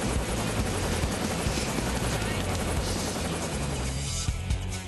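A helicopter in the video game Sonic Adventure DX churns with a dense, steady rotor roar that fills the whole clip at moderate loudness, easing slightly near the end.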